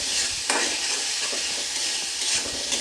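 Egg curry masala sautéing in a pan, a steady close sizzle with scraping stirs throughout, the spoon clattering at a couple of moments.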